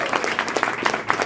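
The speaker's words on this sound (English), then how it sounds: "round of applause for him" A brief burst of audience applause at a talk, scattered claps heard close and moderately loud for just over a second.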